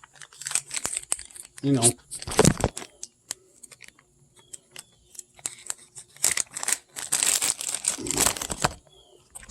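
Plastic package being torn open with teeth, close crinkling and tearing bursts in uneven clusters, with someone talking between them.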